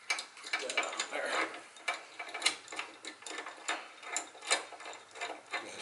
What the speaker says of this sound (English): so use a 5/16 wrench